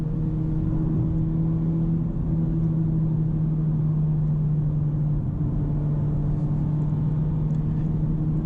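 A 2021 Honda Civic Type R with manual clutch driven in sport mode, its engine holding a steady low drone with a faint whir and rumble, continuous and fairly loud, with no talk over it.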